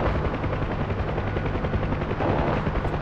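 A Huey helicopter's door gun fires at troops on the ground in the DCS World combat simulator: a steady, loud rotor and engine drone with rapid bursts of machine-gun fire running through it and no pause.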